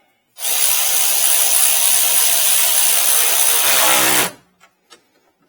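A power tool whirs loudly for about four seconds while tightening bolts on a 2015-2020 Ford F-250 headlight assembly, stopping abruptly and followed by a couple of small clicks.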